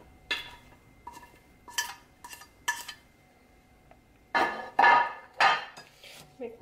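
A kale salad with dates, apples and avocado is tossed in a bowl: several separate bursts of clattering utensils against the dish, some quick and sharp, with quiet pauses between them.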